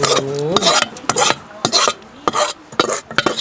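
Ingredients ground together for a spicy Thai beef offal koi, heard as loud, close, rhythmic rasping grinding strokes in quick succession, with a brief tonal sound at the very start.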